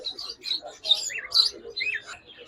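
Pale fallow pet birds, green pale fallow and split pale fallow, give bright, quick chirps and short twittering calls close by, several overlapping in a busy, lively chatter.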